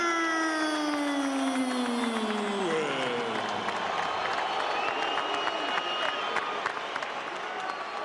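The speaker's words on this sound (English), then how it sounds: "Great atmosphere and a big crowd at the Staples Center for what could be a dramatic fight." Big crowd roaring and clapping at the Staples Center before a heavyweight boxing match, a sustained distant wash of applause and cheers with a ring announcer's long drawn-out voice over it at first.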